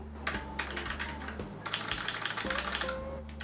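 Rapid, soft keystrokes on a thin Logitech G515 Lightspeed TKL gaming keyboard with foam layers, a steady run of light muted clicks with a low hum underneath, close up and unbroken.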